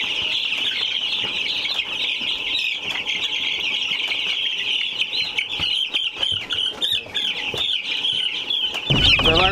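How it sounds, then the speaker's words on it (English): Meat chickens just placed into a coop cluck and chirp nonstop at close range, a dense busy flock with a sharper, louder burst of activity right at the end. "And then we can put meat birds in here."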